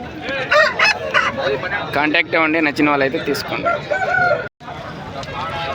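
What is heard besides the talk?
roosters crowing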